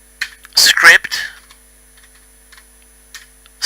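Fast typing on a computer keyboard, a short dense burst of close, loud key clicks followed by a few scattered faint taps in near silence.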